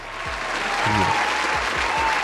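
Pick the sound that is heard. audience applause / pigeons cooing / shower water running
audience applause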